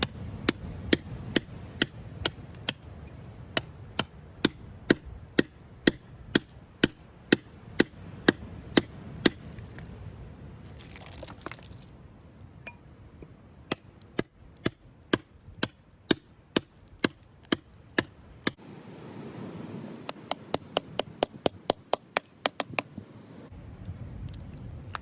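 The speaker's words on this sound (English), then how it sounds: "I'm just gently chipping around it." A hammer chipping shale around an ammonite fossil in an outdoor dig, striking in sharp, evenly spaced taps that pause now and then and turn into a quicker burst of hits near the end.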